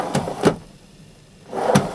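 A storage drawer in the cab of a MAN TGS 32.420 8x4 concrete truck is opened, giving two close, sharp bursts of sliding and knocking with a quiet gap between them.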